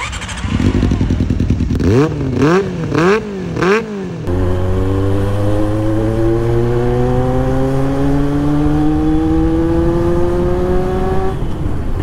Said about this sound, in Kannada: ಈ ಥರ ಸ್ಮೂತ್ ಆಗಿರೋ ಇಂಜಿನ್ನು, ಈ ಥರ ಸೌಂಡು ನಾನು ನಿಜ ಕೇಳಿಲ್ಲ ಗುರು ಇದುವರೆಗೂ